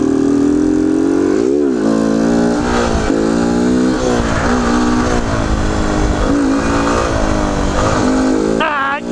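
A motorcycle revs hard during wheelie riding, its loud engine holding a throaty drone that rises and falls with the throttle for several seconds close by.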